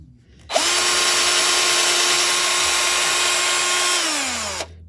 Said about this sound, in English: So I will drill that and come back.